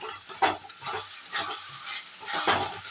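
Spices stirred and frying in a pan for a Bengali mutton curry, a steady close sizzle with scraping stir strokes and light clinks of a utensil, no talk.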